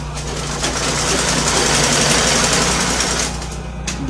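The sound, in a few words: sewing machine stitching a skirt seam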